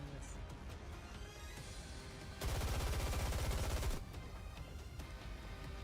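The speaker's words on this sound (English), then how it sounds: "Gunfire, unmistakably Snow White's, erupts from behind." Gunfire from the character Snow White in the game Ark Guardian erupts in a dense, rapid burst lasting about a second and a half, rising sharply above a quieter game soundscape before cutting off.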